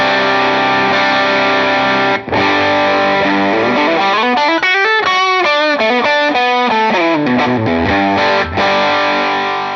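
An electric guitar played through a Line 6 POD Go amp model with a naturally crunchy, overdriven tone and no distortion pedals, strumming sustained chords and then moving into a quick run of changing notes, loud and alone.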